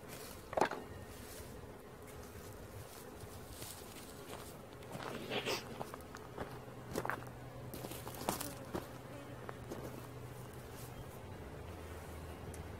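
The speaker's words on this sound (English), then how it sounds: "Good, healthy looking bees." A swarm of healthy honey bees is being caught and settled into a hive box outdoors. Faint buzzing is heard close by with scattered bumps and rustles, and a low steady hum runs underneath.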